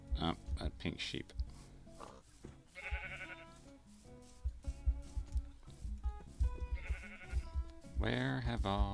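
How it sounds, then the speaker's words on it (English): Blocky pink sheep in Minecraft bleat in several short, bright calls spread across the clip, mixed with other game sounds and animal noises. "Oh, a pink sheep."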